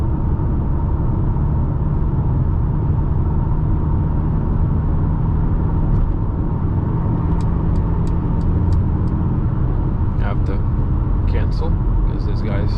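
Steady road and engine noise inside a 2020 Mercedes GLA at night as the driver switches to sport mode and accelerates toward 150 on cruise control, a continuous low drone with faint ticking clicks late on.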